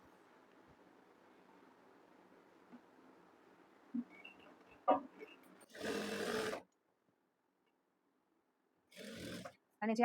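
Domestic sewing machine stitching a designer kurti, running in two short bursts, the first about a second long and the second shorter, following a stretch of soft handling noise.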